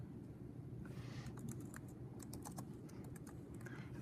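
Typing on a computer keyboard, quiet irregular clicks of keystrokes in short bursts over a low steady room hum, with no voices.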